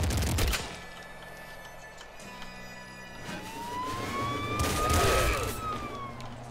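A beam shotgun fired in the PC game Nuclear Throne, with an Ultra mod: sharp blasts that open into bright, whining laser-like tones rising and falling over a busy game soundscape, loudest near the end.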